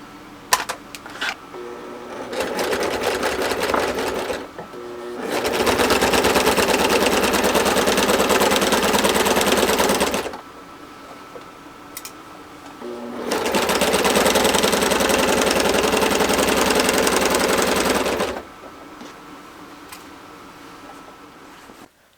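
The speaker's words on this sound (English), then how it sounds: "But we're going to sew it first." A sewing machine stitches a baby quilt in two long, steady runs of about five seconds each, separated by quieter pauses with light handling noise; loud and close, no talking.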